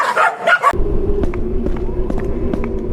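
A dog barks repeatedly in a Marathi wheelchair-man horror video game, coming as sharp, evenly spaced barks over a low rumbling game background after a brief burst of voice at the start.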